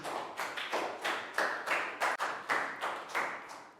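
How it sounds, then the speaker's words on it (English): A small classroom group claps in a quick run of about a dozen separate bursts, close and moderately loud, rhythmic rather than a continuous roar, during a Year 3 English lesson. "Round of applause for Pak Bung."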